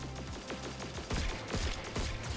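Hand cannon shots fired in a Destiny 2 firefight, several sharp loud reports with echoing tails spaced through the moment, over a steady layer of game ambience.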